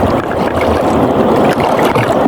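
Strong wind roaring across the microphone in a dense, loud rush, with a boat-like rumble and water churning beneath.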